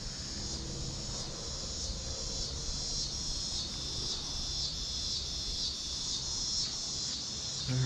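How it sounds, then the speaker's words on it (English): A steady, dense high-pitched insect drone of cicadas fills the air without pause in dense forest at Gettysburg Battlefield, a continuous shimmering buzz. "You hear the cicadas going?"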